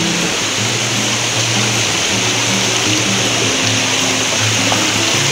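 Loud, constant roar of a river rushing over rocks just below the Curug Nangka waterfall at the foot of Mount Salak near Bogor, West Java, a dense unbroken wash heard up close with no talking.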